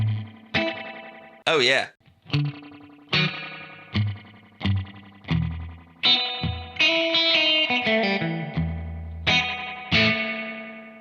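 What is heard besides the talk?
spring reverb effect pedal on guitar, Keeley Hydra or Strymon Flint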